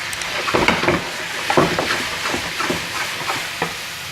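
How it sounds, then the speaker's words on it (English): Pork sizzles in a hot pan while being stirred, with a steady frying hiss broken by scraping, clattering strokes of the utensil that come in uneven bursts close by. "just give it one last stir of the pork"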